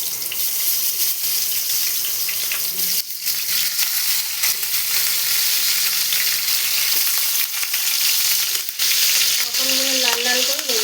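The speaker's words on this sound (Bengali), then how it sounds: "এবার আমি পটলগুলো ভেজে নেব।" Pieces of pointed gourd (potol) fry in hot oil seasoned with salt and turmeric, giving a steady, loud, continuous sizzle close up, with faint stirring scrapes and a brief voice near the end.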